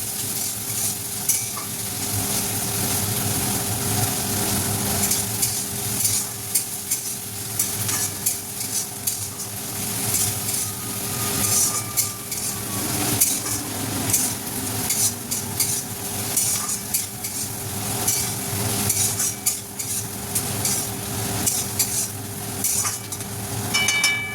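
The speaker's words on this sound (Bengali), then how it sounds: "কুচনো পেঁয়াজ দিয়ে একটু ভালো করে ভাজতে হবে" Chopped onion fries in a pan for dhaba-style dal fry, a loud, constant close sizzle with frequent stirring scrapes and occasional light clinks of a utensil against the pan.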